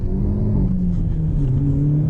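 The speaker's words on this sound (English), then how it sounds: "so now we're going to accelerate. First gear," A Hyundai Elantra N with a six-speed manual pulls hard in first gear, its engine note rising steadily as a loud, close, rumbling drone heard from inside the car.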